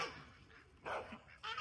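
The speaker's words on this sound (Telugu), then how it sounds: "కుక్క చూసారా ఎట్లా అరుస్తుందో" A guard dog kept on a farmhouse property with ducks around barks in a few short, fairly loud bursts with quiet gaps between them.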